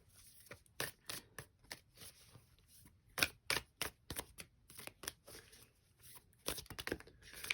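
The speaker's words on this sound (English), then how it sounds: "Sorry if you can't see me shuffle on camera" Tarot cards being shuffled in quick riffling bursts, a series of crisp papery flutters repeating irregularly, close and fairly quiet, with no talking.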